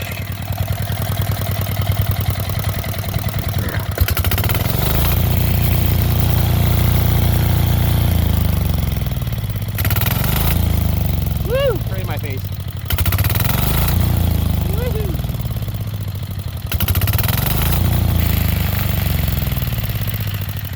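Old 4HP diesel engine on a Sears loader running close by, revved up and down in repeated surges with a steady low chug between them, and a voice talking over it.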